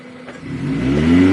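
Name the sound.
car engine revving while climbing a steep hill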